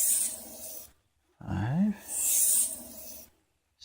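Thin knife blade drawn along a sharpening stone in slow rasping strokes, one close pass rising in a short swoop between quieter scrapes and brief pauses.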